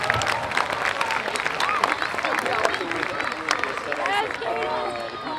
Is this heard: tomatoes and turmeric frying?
no